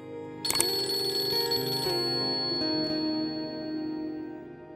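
A telephone rings loudly nearby, a bright trilling ring that cuts off after a couple of seconds, leaving a faint steady hum.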